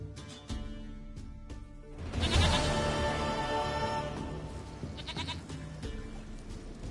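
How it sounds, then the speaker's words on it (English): Goat bleating in the video game Witcher 3, a few wavering bleats rising over background game ambience and music, moderately near. "Goat of mine, dearest, sweetest goat."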